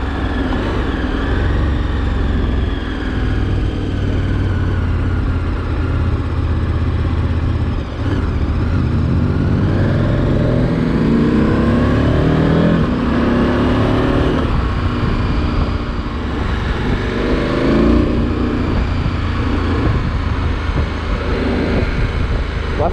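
A 2023 KTM 1290 Adventure S motorcycle engine holds steady around 2200 rpm with a loud, continuous, slightly lumpy rumble and rising whines, plus wind buffeting at the microphone.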